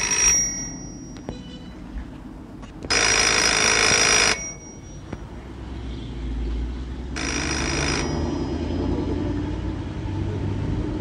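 A telephone rings in two long, loud bursts separated by a gap, heard over a low rumble of traffic or a car interior, with scattered knocks and no talking.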